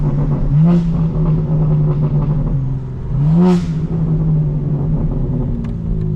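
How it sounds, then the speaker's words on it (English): A 2024 BMW M4 Competition xDrive engine revs twice from a steady idle, each rev a loud rising snarl that drops back to a deep rumble, heard up close. "Get a sense for just how vicious this car is."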